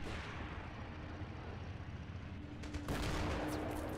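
Big Bertha artillery in Men of War: Assault Squad 2 rumbles in a dense, continuous barrage of booming fire, with a sharper louder burst near the end, all heavy and close.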